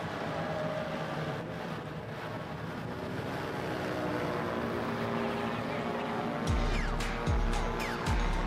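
A paramotor engine drones steadily through a slalom flight at the FAI World Paramotor Slalom Championship finals, with a fairly even hum and a louder, nearer pass of rushing noise toward the end.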